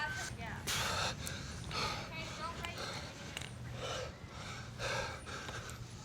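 A person breathes heavily after a workout exercise in an athletic training session, with repeated deep, gasping breaths that rise and fall at a steady rhythm against faint background noise.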